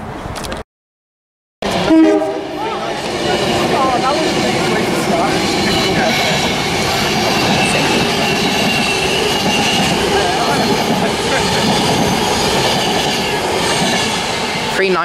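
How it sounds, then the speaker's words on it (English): A Virgin Trains West Coast train passes through Stafford station on the West Coast Main Line. After a brief silent gap it brings a loud, continuous rumble with wheel clatter and squeal that holds to the end. "on a Virgin Trains West Coast service to somewhere, I don't know where it is"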